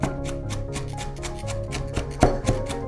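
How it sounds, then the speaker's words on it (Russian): A knife chops steadily on a cutting board, quick regular taps finely slicing onion, close and clear with no talking. "Придерживаем ножичек с одной стороны, кончик. И вот таким образом шинкуем."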